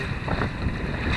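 Gusty wind rushing over a reefed Rob Roy 23 sailboat on Lake Murray, South Carolina, a loud, close buffeting roar with water noise beneath.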